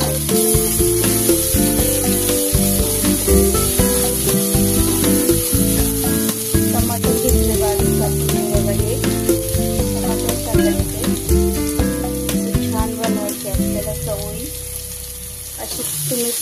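Turmeric and ginger-garlic paste frying in a pan for a Maharashtrian chavli bhaji, loud continuous sizzle with repeated scraping stirs and clinks of the spoon, close up throughout.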